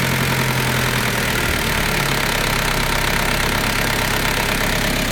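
A Wlt diesel engine idles steadily after a fuel increase adjustment, a continuous even rumble with a faint knocking texture, close and alone with no voices.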